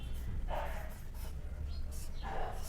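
Marker or chalk strokes writing Bengali letters on a board during a lesson, two short scratchy bursts about two seconds apart, close and moderate over a low steady background hum.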